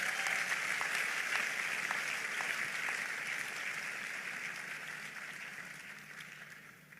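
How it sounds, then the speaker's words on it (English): A graduation crowd at a university ceremony gives a round of applause, a broad wash of clapping that starts full and gradually fades, heard from a distance with no voices over it. "Help me give the Lord another big hand of applause"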